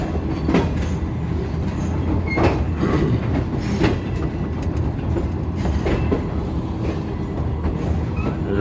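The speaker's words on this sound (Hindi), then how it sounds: "railway station" Train at Kotri railway station on the Hyderabad to Karachi line, a steady loud rumble of rolling railcars with rhythmic clickety-clack wheel beats and faint squeals throughout, no voices.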